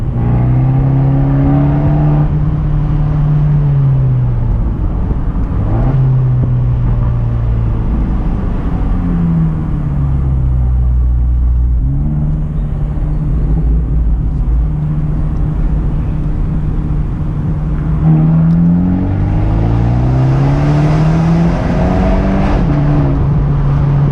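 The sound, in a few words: Abarth 124 Spider exhaust, car accelerating and revving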